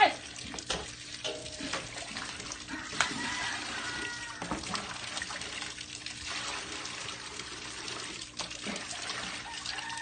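Two pigs in a Cebu piggery splash and play in water from a basin, giving irregular trickling, dribbling and sloshing sounds close by, with faint voices now and then.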